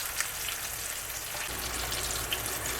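Bone-in chicken wings frying in oil, a steady close sizzle and hiss with faint pops and crackles scattered throughout.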